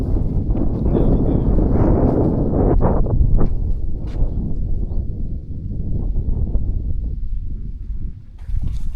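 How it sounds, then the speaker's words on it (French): Wind blowing across the top of a black slag-heap hill in northern France, a steady broadband rush buffeting the microphone, with rustling and footsteps close by. "Non, il y a du vent, ça fait du bien."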